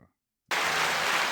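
A canned applause sound effect triggered by a button bursts in abruptly after a short silence, a dense, bright wash of clapping that holds steady at full level.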